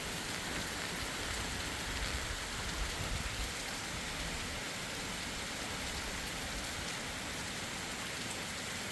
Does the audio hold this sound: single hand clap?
no